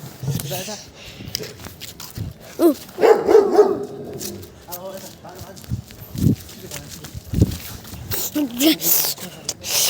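A dog barks a few times amid busy outdoor noise and people talking during Tihar festival in Nepal.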